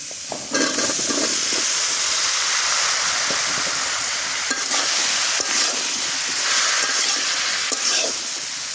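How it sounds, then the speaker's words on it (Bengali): Eggplant pieces fry in a hot pan with a steady, continuous sizzle and hiss, stirred now and then, loud and close without pause for nearly nine seconds. "এখন বেগুনটাও দিয়ে দিই।"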